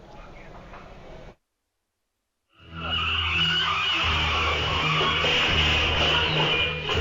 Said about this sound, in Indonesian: Sebuah mobil minibus menghantam tiang listrik saat melaju dengan kecepatan tinggi.